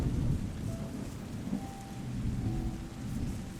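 Steady rain hisses alongside low rolling thunder in the game Terra Nil, a continuous soft wash with brief faint tonal blips and no voices.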